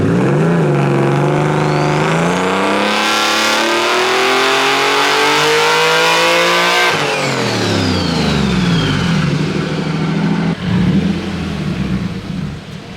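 A swapped Nissan S15 engine revs hard through a dyno pull. The loud, continuous roar climbs steadily in pitch for several seconds, drops sharply when the throttle lifts, then rises again.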